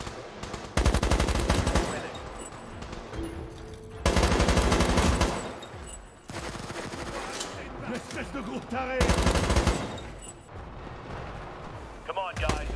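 Gunfire and artillery-like bursts in the World War 3 military shooter game, loud dense volleys in several long waves separated by quieter stretches, with voices in between.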